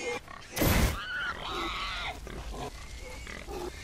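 Pigs grunting and oinking in the video game Far Cry 4, a loud burst of squealing noise near the start followed by several close grunts over a steady game background.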